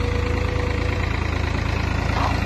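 A tractor engine runs steadily close by, a loud low rhythmic chugging throb that holds even throughout.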